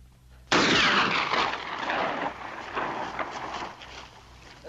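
A gunshot in a 1956 Lone Ranger western film: one sudden loud blast followed by a long, rumbling, echoing decay that slowly fades over several seconds, with no voices.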